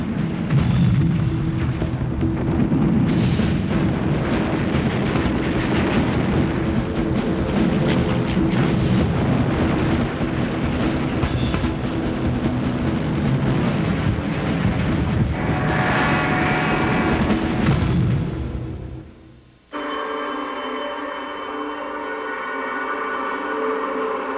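Anti-aircraft barrage and aircraft during the 1941 Japanese attack on Pearl Harbor: a continuous, loud roar of engines and gunfire rumbling for about twenty seconds, cut off abruptly, followed by quieter tonal sound.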